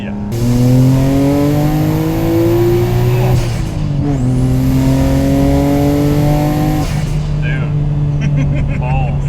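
A Nissan R33 GTR's RB26 engine with a Tomei titanium exhaust drones loudly under steady acceleration, pitch climbing through gears with a shift dip, heard from inside the car while people talk.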